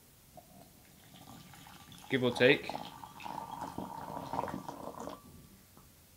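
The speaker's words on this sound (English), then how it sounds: "So the first thing we'll do is pour the water, and we want 130 milliliters" About 130 ml of water poured into a glass beaker for brewing sencha green tea, a brief splashing gush followed by a few seconds of steady trickling, with soft talk before it.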